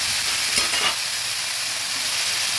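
Bitter gourd and potato pieces sizzling in hot oil as they are stirred in a pan, with a brief louder scrape of stirring near the start, then a steady close frying hiss.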